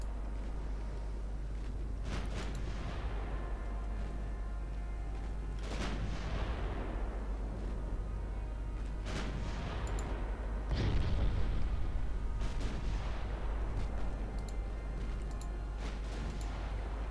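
Naval guns in Ultimate Admiral Dreadnoughts fire roughly every three seconds, each a deep boom with a long fading tail over a constant low engine drone, no voices.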